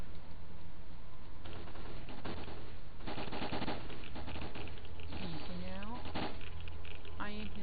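Gunfire in the video game Lost Alpha, rapid bursts of shots and crackling impacts layered with game noise and buzzing effects, with a voice talking over parts of it.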